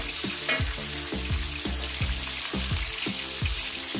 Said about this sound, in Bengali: এটাকে আমি 2 মিনিট ভেজে নেব